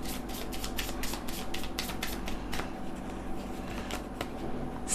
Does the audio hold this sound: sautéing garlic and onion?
no